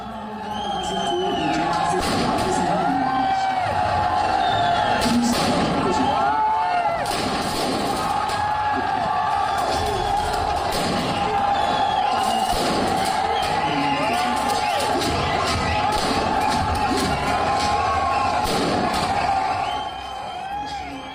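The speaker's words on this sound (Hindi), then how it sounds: "आतिशबाजी का ये खतरनाक शो" Fireworks crackle and bang repeatedly inside Mohan Theatre cinema hall in Malegaon, Maharashtra, during a Tiger 3 night show, while a large crowd roars, whoops and cheers loudly throughout.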